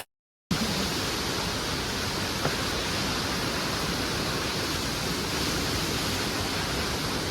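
The Jogni waterfall in Manali roars as a dense, steady rush of falling water heard up close. It begins after a moment of silence and continues unchanged without any voices.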